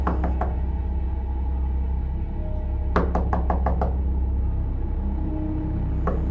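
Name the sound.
knocking on a house door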